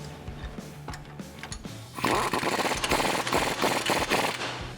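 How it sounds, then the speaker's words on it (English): A 21 mm bolt on a 2018 Jeep Wrangler JL track bar being tightened during a Rough Country 2.5-inch lift install, heard as a loud rapid ratcheting power-tool buzz after a few lighter clicks and taps. "we can tighten it up with a 21 millimeter"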